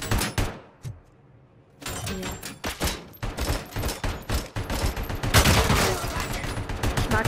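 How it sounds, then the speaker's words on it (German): Gunfire in RoboCop: Rogue City crackles in rapid, repeated bursts, broken by a brief lull near the start and then a dense, loud volley of sharp shots that keeps going to the end. "Schießt er auf mich?"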